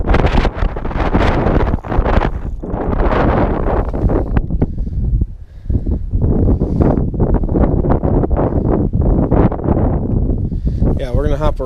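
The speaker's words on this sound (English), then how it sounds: "It's so windy out." Strong gusty wind buffets the microphone in a steady roar throughout, out on a frozen lake while ice fishing, with a person talking over it nearly the whole time.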